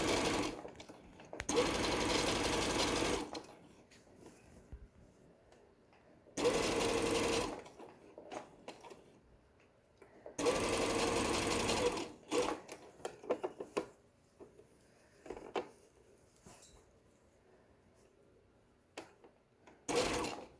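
A sewing machine stitches a thick tote bag in three separate bursts of a few seconds each, a loud close whir, with handling clicks and fabric rustle in the pauses.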